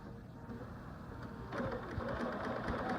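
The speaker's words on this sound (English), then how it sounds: "I'm going to sew down to the end, and then I'm just going to feed it in the other way" A sewing machine stitches a fabric seam for a quilt block, its needle running in a fast, steady mechanical rattle that grows louder and more rhythmic partway through, with no talking.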